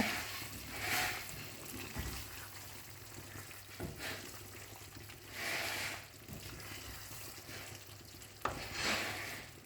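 A thick fish curry gets stirred slowly in a pan, with wet scraping sweeps every couple of seconds over a low bubbling simmer, close and unhurried.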